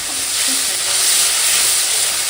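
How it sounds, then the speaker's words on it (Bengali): Leaves fry in hot oil with a loud, continuous hissing sizzle that holds steady throughout, close and unbroken. "তেলপাত্তাটা শুধু ভাজা করে নিচ্ছি"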